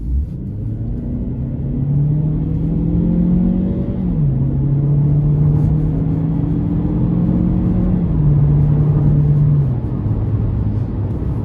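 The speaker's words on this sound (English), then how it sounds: "So pretty good pull from the Turbo 4, and the 6-speed shifts pretty seamlessly" A 2018 Chevrolet Cruze LS with the 1.4-litre turbo four and six-speed transmission accelerating hard, engine droning loudly from inside the cabin as revs climb, drop at a seamless upshift, climb again and shift once more.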